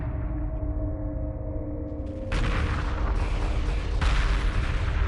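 A multi-gun corvette fires on immobilized swarmers in the space strategy game Homeworld Remastered. A low rumbling hum turns into dense, booming gunfire that rises to a louder burst near the end, with no voices.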